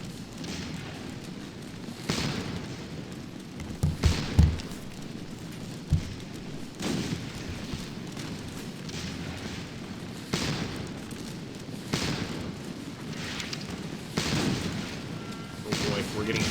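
Artillery fire rumbles in the Waterloo-era Scourge of War video game, with repeated dull booms and a few sharper cracks over a steady roaring battle backdrop, plus a voice talking faintly under it.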